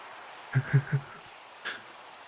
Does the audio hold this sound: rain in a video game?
yes